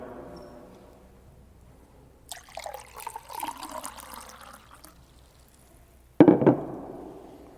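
Water pours from a pitcher into a glass in a soft, gurgling stream for a few seconds, followed by a sharper clink or splash near the end.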